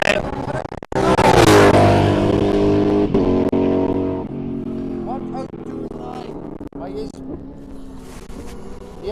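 An Aston Martin race car roars past during supercar qualifying, its loud engine note swelling close by and then fading, with a commentator talking over it throughout.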